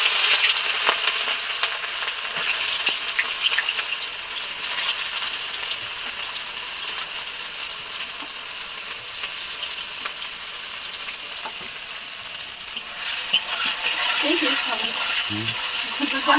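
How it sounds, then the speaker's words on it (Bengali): Chopped onions hit hot oil with whole garam masala for a desi chicken curry, giving a continuous close hissing sizzle that stays steady throughout, with a few clicks and utensil knocks toward the end. "তারপরে দিয়ে দিচ্ছি কেটে রাখা পেঁয়াজ।"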